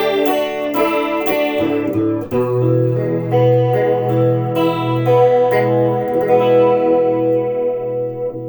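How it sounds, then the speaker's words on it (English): An electric guitar played through a Fender Champion II 25 amp with chorus effect: strummed chords then sustained, shimmering notes ringing out loud and close with no talking. "this first was chorus"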